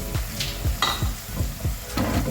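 Ginger and garlic are stirred in a pan of oil over a low flame for a Pakistani kadhi pakora, a steady sizzle broken by rhythmic scraping strokes of a spoon against the pan, close and clear.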